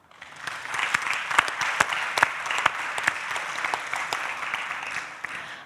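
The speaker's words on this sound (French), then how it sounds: "On peut les applaudir." Sustained audience applause fills a theater hall at a regional youth-workers' conference, dense clapping holding steady throughout with a few sharper claps standing out.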